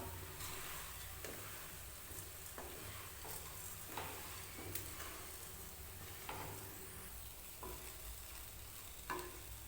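Quiet, repeated strokes of a spoon scraping vermicelli through a spice mix in a pan over a soft background sizzle.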